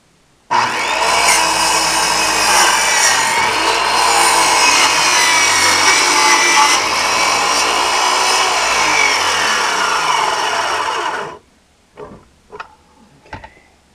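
A power saw cuts through wooden deck boards in one long, loud, continuous rasping run of about eleven seconds, then stops, followed by a few short knocks and clatters.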